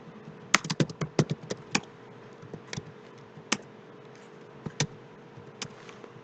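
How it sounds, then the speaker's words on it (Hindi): Quick clusters of keystrokes on a computer keyboard while entering data into an Excel sheet, bursts of rapid clicks separated by short pauses, close and fairly quiet, no speech. "कुछ भी इंफॉर्मेशन टाइप कर देता हूँ।"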